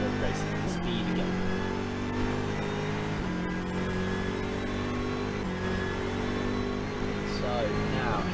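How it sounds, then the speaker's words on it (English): Onboard a race car on the Nurburgring Nordschleife during a VLN endurance race, the engine climbs through the revs as the car accelerates back to racing speed, with steady rising tones and a brief gear-change dip, loud and close. "Now accelerating back up to racing speed again."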